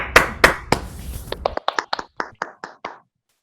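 A few people clap over an online call after a talk, a short burst of overlapping claps under a brief voice, then about ten single, separate claps in a loose rhythm, close and moderately loud.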